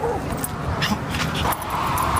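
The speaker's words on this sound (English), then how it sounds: "the dogs are very excited to go in the big park" Excited dogs about to enter a big park whimper and yip in short high bursts, fairly close, with some background voices murmuring.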